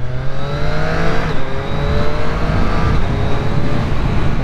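A 2021 Triumph Speed Triple 765 RS motorcycle accelerates hard, its engine note climbing steadily and then dropping at two crisp quickshifter gear changes, loud and close with wind noise.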